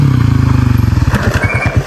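A motorcycle engine runs close by with a steady, throbbing low putter that pulses rhythmically, then loosens and fades slightly toward the end, with no talking over it.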